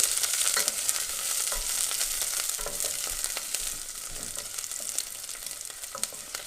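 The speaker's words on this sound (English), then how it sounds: "Then we add the onions. So we want to hear that sizzle." Onions sizzle steadily in hot oil in a pot over medium heat, a constant crackling hiss with small pops and occasional stirring scrapes.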